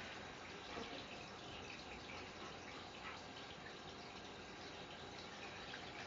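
Steady running water pours over a dog during a bath rinse, a continuous even gush like a tap or shower filling a tub, moderately loud and uninterrupted with no talking.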